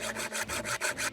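A hand file scrapes across the teeth of a worn-out chainsaw chain during sharpening, giving quick rasping strokes in a regular back-and-forth rhythm of about five passes, close and clear.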